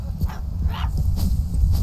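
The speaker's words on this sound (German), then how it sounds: "Komm her, Hundi." A dog in the video game My Friendly Neighborhood gives a quick series of close yips and soft whimpers, several short cries within about two seconds.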